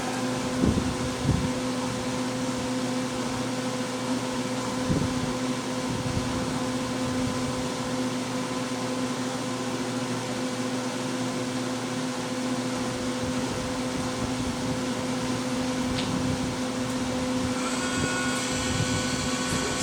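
The feed motor of a Platinum Brunswick pellet stove runs in a steady electric hum with a constant tonal drone, close and continuous, with a faint clicking change near the end.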